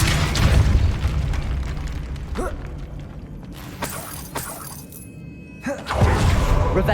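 Hogwarts Legacy gameplay: a Depulso spell hits with bursts and shattering crashes, several loud impacts spread across the clip with quieter debris and rumble between them.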